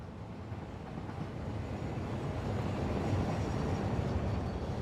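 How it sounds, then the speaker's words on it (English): A train rolls past in the factory-building video game Satisfactory, a steady broadband rumble and rattle that swells slightly midway and holds throughout, with no speech. "There's the train."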